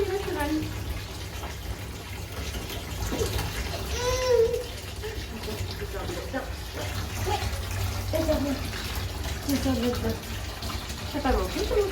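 Water runs steadily for a baby's bath, a soft continuous splashing flow beneath an adult talking and a small child's babbling and cooing.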